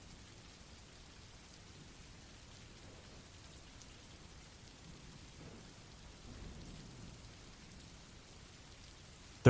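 Steady soft rainfall with a faint distant rumble of thunder, a quiet continuous hiss throughout with a slight swell partway and a sharp sound at the very end.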